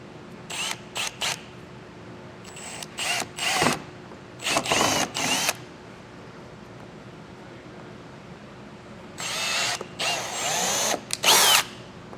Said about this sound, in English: I'm going to come back with a 1/4-inch drill bit, and I'm going to drill these out